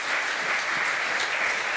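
Applause from a crowd, a dense steady wash of clapping that holds at an even level for the whole stretch with no voices over it, heard during a German football talk show.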